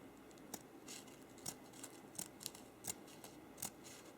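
Scissors snip through gift basket materials such as ribbon or cellophane while a candle gift basket is assembled, giving about ten crisp, separate cuts at an uneven, deliberate pace, close and fairly quiet with no talking.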